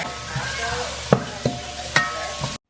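Oil sizzles steadily as onions fry in a pan for curry, with a few sharp clacks from stirring cutting through the constant crackle.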